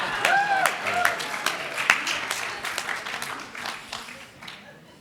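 An audience at a town hall meeting claps in a moderate burst of applause that gradually thins and fades, with a voice talking over it.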